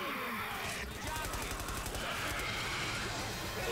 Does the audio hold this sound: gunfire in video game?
yes